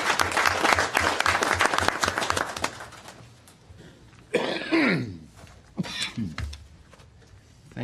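Scattered applause from a council meeting audience, loud and close for about three seconds, then fading out, followed by brief talk and movement noises.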